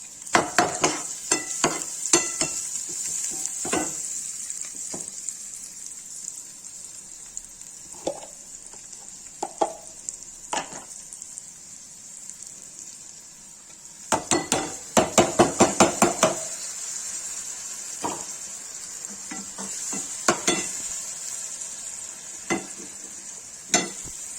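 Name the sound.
onion frying with red chili and turmeric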